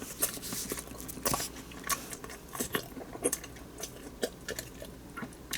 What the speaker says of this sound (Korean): 자, 이건 또 어떤 맛일지 기대가 되는데, 한 입 먹어보도록 하겠습니다.